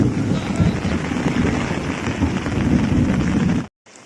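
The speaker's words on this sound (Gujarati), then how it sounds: "કાટકા ચાલુ હોય તેવું ગાજે" Thunder rumbles loud and deep, rolling steadily for several seconds before stopping abruptly.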